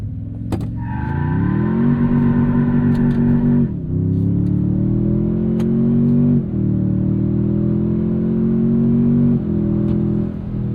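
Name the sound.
2026 Toyota Tundra TRD Pro twin-turbo launching from brake boost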